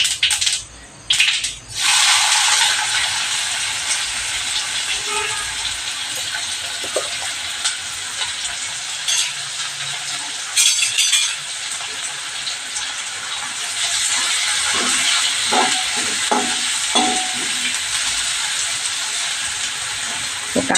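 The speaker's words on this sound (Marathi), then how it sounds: "जिरं तडतडलंय, 1 थेंब हिंग घालणार आहे आणि कांदा परतायला टाकणार आहे." Chopped onion frying in hot oil with crackled cumin seeds and a drop of asafoetida, a steady loud sizzle and hiss running throughout, close by, with a few brief clinks near the end and no talking.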